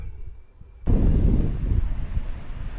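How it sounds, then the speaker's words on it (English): Strong wind gusts during a small-game hunting outing arrive abruptly after a quiet moment, turning into heavy, loud buffeting rumble against the microphone that keeps surging and easing for the rest of the moment. "this wind is absolutely brutal"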